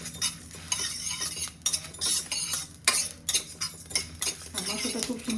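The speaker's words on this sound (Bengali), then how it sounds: "আমি ধনেটা একটু ভালোভাবে ভেজে নিচ্ছি" Coriander and spices fry in a pan with a constant sizzle, overlaid by frequent close scraping and clattering of a metal spatula stirring against the pan.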